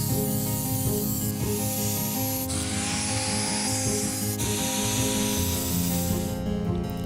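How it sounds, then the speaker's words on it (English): An angle grinder with a cutoff wheel cuts knife steel, giving a loud continuous whine and abrasive rasp whose pitch shifts as pressure changes. "Then I use an angle grinder with a cutoff wheel to get out the rough shape."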